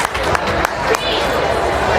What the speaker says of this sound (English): Round of applause from both sides of the stands here as the Beast.